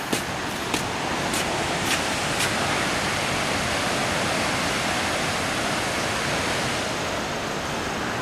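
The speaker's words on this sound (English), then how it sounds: "This is a waterfall observation for Inukai waterfall." Steady, dense rush of Inukai waterfall in Kagoshima, Japan, filling the whole clip, broad and constant, with a few faint clicks near the start.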